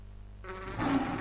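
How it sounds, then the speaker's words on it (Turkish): Bees buzzing in the Minecraft video game, a steady insect drone that swells louder partway through the short stretch. "Arılar var"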